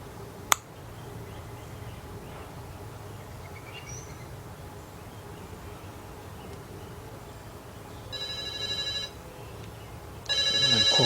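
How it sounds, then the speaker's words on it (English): An incoming call rings on a phone in a garage during engine work on a 1977 Buick LeSabre 350. Two bursts of electronic ringing follow a sharp click and quiet room tone, with no one talking. "Somebody calling me at this time."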